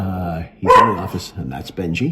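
A dog gives a few short, close barks mixed with a spoken voice.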